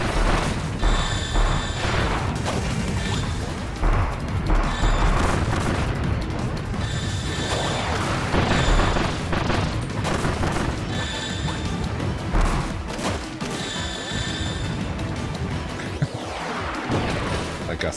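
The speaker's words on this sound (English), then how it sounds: "Even bigger cannon!" Cannon fire in Kirby's Return to Dreamland Deluxe, with repeated booms and crashes over a dense, loud game soundtrack and effects throughout.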